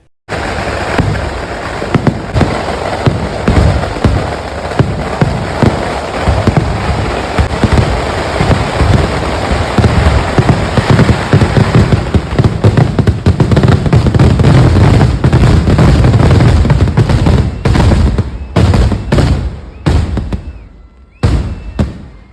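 Fireworks display at a temple festival in Kannur, with dense rapid crackling bursts and booming blasts that run continuously and loudly, thinning out into scattered separate bangs toward the end before dying away.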